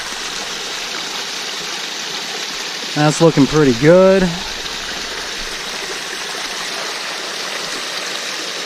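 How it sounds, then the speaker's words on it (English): Water rushes and gurgles continuously through a gold-mining sluice at close range, while someone speaks briefly over the flow. "Alright, so we got good water flow here."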